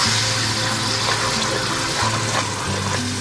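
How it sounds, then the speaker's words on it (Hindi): Water splashed into a hot pan of sizzling masala with red chilli powder and green chilli paste for fish karahi, giving a steady loud hiss and bubbling that runs throughout without talk. "थोड़ा सा मैं पानी का छींटा दूंगी इसको।"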